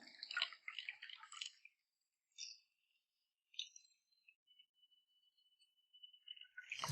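A cocktail with muddled blueberries is poured straight from a shaker, making a short wet splashing burst at first, then a few scattered drips and trickles that fade into near silence.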